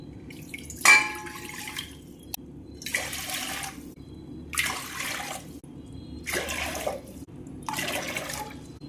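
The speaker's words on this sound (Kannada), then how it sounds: "ಈಗ 5 ಗ್ಲಾಸ್ ನೀರು ಹಾಕಿದೇನು." Water poured glass by glass into a pressure cooker, five distinct splashing pours separated by short pauses, close and fairly faint.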